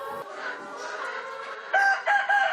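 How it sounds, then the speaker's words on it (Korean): Free-range chickens at a Korean egg farm crow and cluck, with a rooster's crowing standing out near and loud over a busier background of fowl calls, with no talking. "밀식 대량으로 키우는 양계장에 비해 비교적 자유롭게 먹이를 먹고 자라는 닭들은 면역력이 강해 병도 잘 걸리지 않고"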